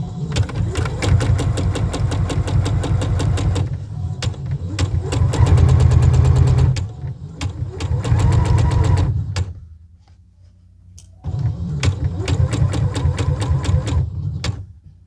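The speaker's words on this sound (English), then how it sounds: "do a fancy stitch on your sewing machine" A sewing machine stitches in fast rhythmic bursts with short pauses between runs while a dress is sewn, the needle's steady chatter loud and close with no voices over it.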